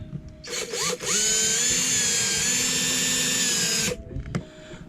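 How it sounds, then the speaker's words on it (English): A power drill bores through a metal swim platform on a sailboat, a loud, close whine that starts after a short rev, holds for about three seconds, then stops with a few clicks after. "So now I have to drill out the swim platform to get the screws through."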